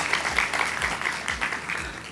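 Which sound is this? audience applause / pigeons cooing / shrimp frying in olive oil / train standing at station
audience applause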